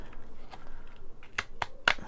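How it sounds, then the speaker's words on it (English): Cheap deckle edge scissors cutting strong masterboard paper for a junk journal, a few crisp snips close by, growing louder toward the end. "cheap deckled edge scissors"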